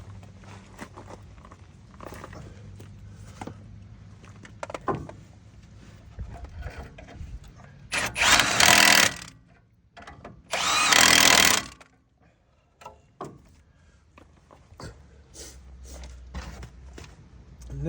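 A power tool on rear brake bolts of a 2013 Toyota Tacoma gives two loud whirring bursts of about a second each, with clanks and handling noise around them.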